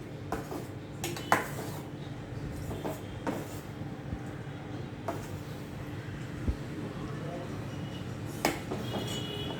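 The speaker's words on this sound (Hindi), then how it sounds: "पनीर डाल के थोड़ा ऐसे घुमाऊँगी, थोड़ा स्मूथली, जैसे पनीर टूटे नहीं।" Paneer pieces stirred gently in a pan of butter paneer gravy, soft scraping with scattered clinks of a spoon against metal, close, with someone talking over it.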